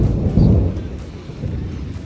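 Thunder rolls over a ranch riding arena during a storm, a deep, continuous rumble that swells briefly and then settles into a lower grumble, with no voices.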